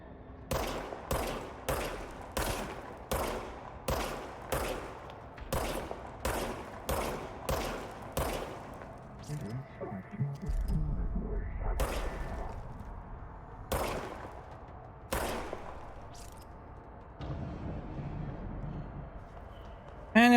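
Repeated shots from the service weapon, a revolver-style pistol in the video game Control, ring out in a steady rhythm of sharp, loud reports, then thin to scattered single shots over a low background rumble.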